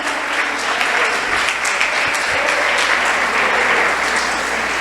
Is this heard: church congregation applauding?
yes